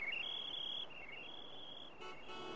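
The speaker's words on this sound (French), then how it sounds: "Avec le bruit du klaxon" An in-game car horn from Paper Mario: The Origami King honks in a steady, sustained toot lasting about two seconds, briefly dipping and then sounding again at the end, alone with no speech over it.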